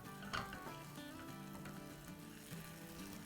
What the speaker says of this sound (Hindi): ये गरम गरम फ्राई पैन में थोड़ा सा अभी हम इसको मिलाते रहेंगे